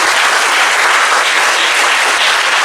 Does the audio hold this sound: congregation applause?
yes